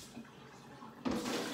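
Water running in a garden, a steady wash of splashing noise that swells louder and nearer for the last half second.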